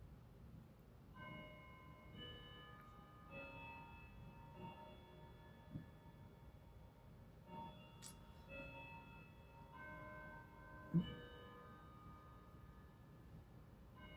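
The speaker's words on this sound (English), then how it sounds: "It's supposed to be the 10:30 chime, but that's okay." A clock chime rings out the half hour at 10:30, its soft, sustained bell-like tones repeating steadily for about thirteen seconds, faint and somewhat distant in a quiet room.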